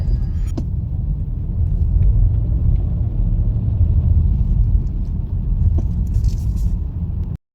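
Heavy weekend road traffic near Dubai Mall makes a loud, continuous low rumble of passing vehicles with faint scrapes, then cuts off abruptly at the end.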